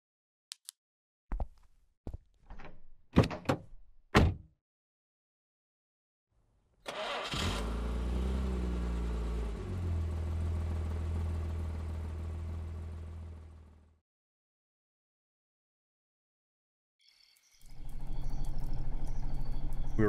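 A Buick LeSabre in a horror video game: several sharp door clunks, then the engine turns over and runs at a steady idle for several seconds before cutting off, followed by a later burst of noisy rumble.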